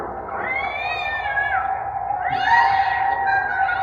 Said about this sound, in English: the perfect classic witch laugh, the bubbling cauldron, the kitty cats